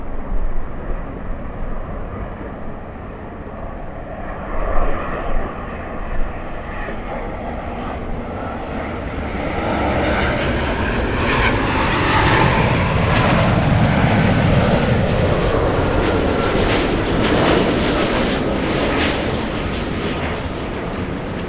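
Boeing 777 airliner landing at Los Angeles airport, a loud, broad jet engine roar that swells and holds steady as the plane passes, with no voices.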